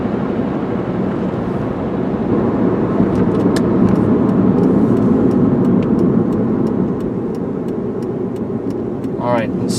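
A 2002 Dodge Neon travels down the road, giving a steady close engine and road hum with tire noise inside the cabin, and a voice talks over it.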